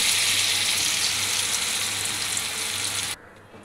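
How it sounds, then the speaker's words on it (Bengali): Banana flower fritters frying in oil over low heat make a loud, steady crackling sizzle that drops away abruptly near the end. "দেখো, এইভাবে আমি বড়াগুলো ভেজে নেব।"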